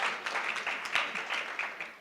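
Conference audience clapping at a women's leadership conference, faint and steady, heard from a distance across the hall for about two seconds.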